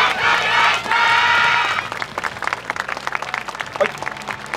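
An audience at the Kyoto Sakura Yosakoi dance festival breaks into loud applause for a couple of seconds, then it thins into scattered, fading claps.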